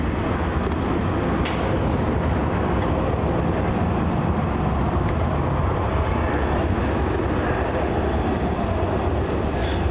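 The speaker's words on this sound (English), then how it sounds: "we've got a departure here on runway 34. This is going to be Virgin Australia flight VA321 off to Brisbane" A Virgin Australia jet departs runway 34 at Melbourne Airport, its engines a loud, steady broadband roar that holds for several seconds, heard from near the field with no voices.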